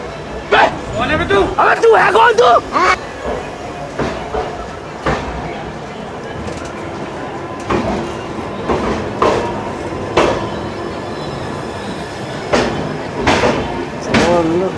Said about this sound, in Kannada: ಫೈನಲಿ ಟ್ರೈನ್ ಡಿಪಾರ್ಟ್ ಆಯಿತು ನೋಡಿ